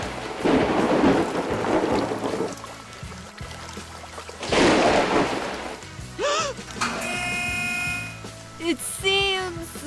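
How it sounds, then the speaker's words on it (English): Heavy rain pours steadily, with loud bursts of rumbling noise in two waves, followed by high cartoonish voices and squeaky sounds toward the end. "Oh no! It's raining now!"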